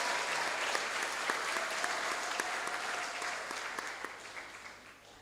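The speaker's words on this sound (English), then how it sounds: "let's clap one more time for Thais Faustin." Steady applause from a graduation ceremony audience in a school hall, a dense and continuous wash of many hands clapping at moderate distance that thins slightly toward the end.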